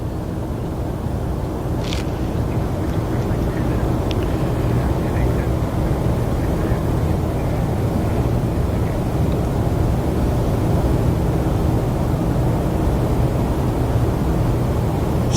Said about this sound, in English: Taxiing, according to my flight radar,